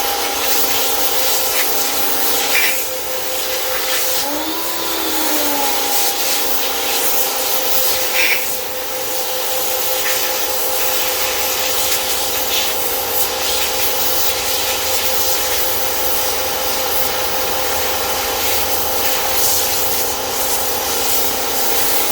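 Power washer blasting meat off a bobcat skull, a continuous loud hissing spray with a steady motor hum, shifting slightly as the jet hits the bone.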